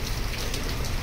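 Steady soft hiss of rain falling outdoors, an even wash of drops over a brief stretch with no voices.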